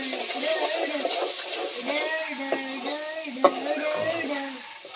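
Greens with salt and turmeric are stirred in a sizzling pan, with a constant frying hiss, a couple of sharp clinks from the utensil, and a voice talking over the cooking.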